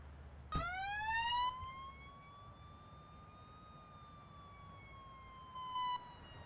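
An ambulance siren from the Emergency 4 video game with an upstate New York mod starts abruptly as a rising wail and holds a long, steady tone over low background rumble.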